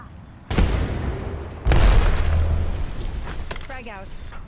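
Frag grenade explosions in the Apex Legends video game, two booming blasts close together followed by lingering rumble, heard alongside voices talking.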